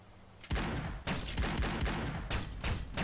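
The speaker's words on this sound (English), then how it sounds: "He's just gonna shoot at everything." Rapid gunfire from the Tales of Xillia video game comes in loud, dense volleys that start abruptly and repeat in bursts, with no talk over them.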